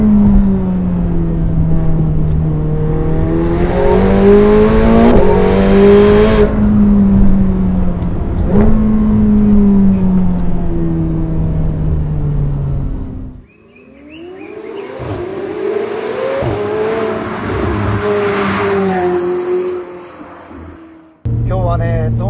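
A 2025 McLaren 750S accelerating hard on a winding mountain road, its engine climbing loudly through the revs in two long sustained pulls, with a short gap in between, heard close from inside the car.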